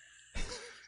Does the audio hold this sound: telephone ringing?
no